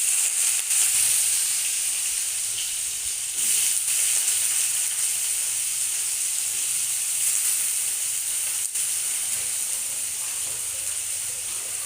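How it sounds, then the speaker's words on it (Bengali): Potatoes and tomatoes fry in hot oil, giving a steady, fairly loud broadband sizzle that holds evenly throughout with only slight swells and no voices. "আমি আগে আলু আর টমেটোটাকে ভেজে নেব।"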